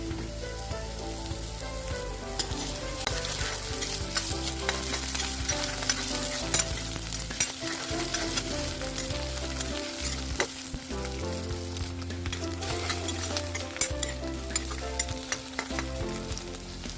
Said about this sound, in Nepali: तेल तातिसकेपछि मैले यसमा मेथी फुराएँ, त्यस्तै गरी खुर्सानी पनि। अब चाहिँ आलु हालिदिएँ।